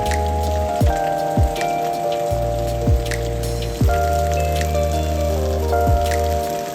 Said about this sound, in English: I just wanted to capture a little bit of that and the rain splattering